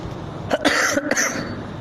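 Two short, sharp coughs in quick succession, close and fairly loud, against a quiet background.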